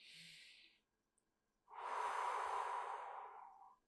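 A person breathing during a seated hip stretch, a short exhale followed by a pause and then a long, deep inhale, close but soft and quiet.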